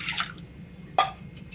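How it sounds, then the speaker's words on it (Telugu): Water is poured onto washed dal in a pressure cooker for boiling: a soft, faint trickle with one brief, sharper splash in the middle. "నీళ్ళు పోసుకుంటున్నా పప్పు ఉడకటానికి."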